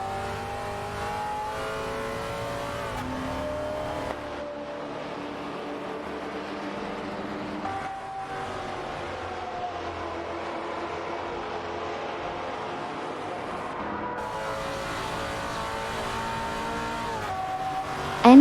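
Engines of racing cars in a video game, including an Aston Martin DB4 GT Zagato and a Maserati Bora, droning and revving steadily with shifting pitch as they run close together, loud and continuous with no talk.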